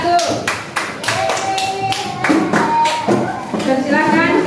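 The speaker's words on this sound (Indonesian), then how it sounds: "Ya, tepuk tangan untuk kelompok 1." A classroom group claps for a presenting group of students with a burst of quick, sharp, close claps. A voice and a few tonal sounds come through between them.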